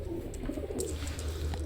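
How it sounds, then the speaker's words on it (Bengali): Motiyala pigeons cooing softly in a loft, low murmuring coos repeating under a steady background hum with a few faint higher chirps. "তো এটা হচ্ছে মতিয়ালা কবুতর।"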